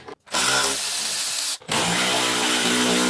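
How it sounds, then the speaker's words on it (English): A power drill or impact driver spins out 10 mm air dam bolts on a GMC Canyon, two loud sustained whirring runs close to the listener, split by a brief pause. "So I'm going to start by removing these two bolts. They're 10 millimeters."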